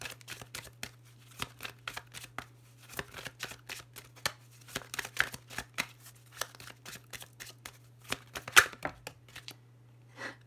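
Tarot cards are shuffled by hand in quick, crisp riffles and slaps, close and clear, repeating steadily over a constant low hum.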